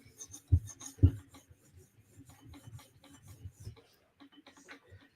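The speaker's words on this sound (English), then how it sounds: "Concentrate on my polishing on the tip." Light rasping strokes of a custom knife tip being polished on a sharpening stone toward a mirror finish, with two louder knocks near the start and a run of soft, uneven scrapes close by, fading toward the end.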